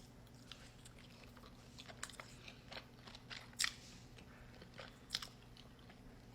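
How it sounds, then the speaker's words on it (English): Someone eats fufu dipped in egusi soup, with quiet, close chewing and a few crisp bites and clicks scattered over a low background hum; no one speaks. "Take a little chunk of the fufu and dip it into the agusi soup."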